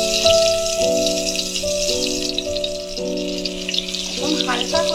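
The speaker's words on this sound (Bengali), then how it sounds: "কড়াইতে সর্ষের তেল গরম হয়ে গেছে। এবার আমি এক এক করে বেগুনগুলো ওতে ছেড়ে দেব।" Eggplant pieces frying in hot mustard oil in a kadai, a loud steady sizzle close by with clinks of a utensil and a sustained tonal hum running underneath.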